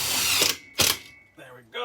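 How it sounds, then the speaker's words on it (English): A power drill drives retainer screws while a Breville Combi-Wave oven is installed in a bus: two loud, close bursts of motor whir, then quieter intermittent spins. "now I just got to put these retainer screws in"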